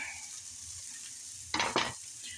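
Garlic hits an oiled pan on low heat while cheeseburger-stuffed mushrooms are being made. After a quiet hiss, two short bursts of sizzling follow close together, loud and near.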